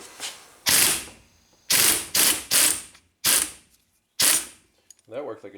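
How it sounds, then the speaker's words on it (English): A three-jaw puller drawing a bearing off a Nissan CVT transmission, a close ratchet wrench clicking in loud bursts separated by short pauses, with a brief voice at the end. "So we're going to try the 3-jaw puller method to get this bearing off."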